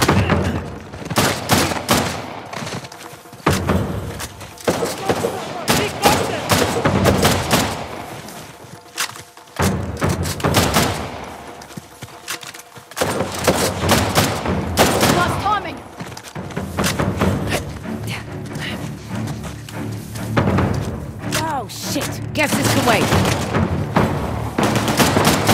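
A shootout from the video game Uncharted: The Lost Legacy in the Western Ghats, with dense bursts of rapid gunfire, heavy thuds and impacts in close succession, while voices shout over the fighting.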